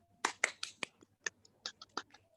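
A classroom group claps in a patterned rhythm as a teacher-training ice-breaker: about a dozen short, crisp claps in uneven bursts, fairly quiet and without voices.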